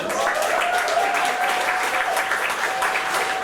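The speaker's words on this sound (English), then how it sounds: "feel free to give her a round of applause" An audience at a literary reading applauds a writer with steady, even clapping that holds at a constant level throughout, a faint sustained tone running beneath.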